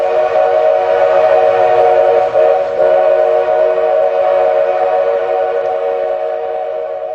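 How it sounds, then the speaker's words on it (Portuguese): A train's whistle blows as it arrives at a workers' neighborhood, a loud, steady, multi-tone blast held for several seconds over a low rumble of rail noise, gradually tapering. "o bairro operário envolto pelo som da chegada do trem"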